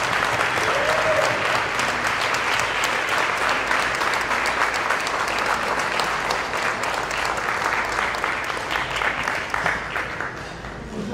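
An audience at a Democratic political gathering claps steadily in a dense, sustained round of applause that holds at an even level before tapering slightly at the end.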